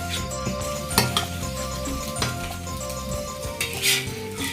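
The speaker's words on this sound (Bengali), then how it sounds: "ডিমটা ভাজা হচ্ছে" An egg frying in a home kitchen pan, with steady sizzling, a few sharp clinks and scrapes of utensils against the pan, close and fairly loud throughout.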